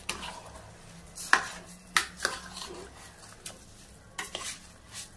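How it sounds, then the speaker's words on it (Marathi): A spoon stirs a khichdi rice mixture in a pan, with repeated scraping strokes over a faint sizzle and occasional knocks against the pan. "मिक्स करून झाल्यानंतर याला हलवून घेणार व्यवस्थित"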